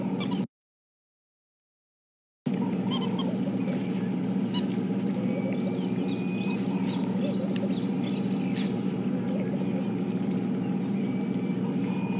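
African wild dog pups twittering excitedly among themselves, a high, bird-like chatter of rapid chirps over a steady low rumble, near and continuous after a short dropout of silence.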